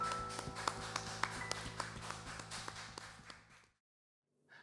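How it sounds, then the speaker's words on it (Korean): A church congregation applauding during a Sunday worship service: a few seconds of quiet, sharp claps in a loose rhythm that stops abruptly, followed by near silence and a faint sound at the end. "우리 하나님께 영광의 박수 올려드립시다"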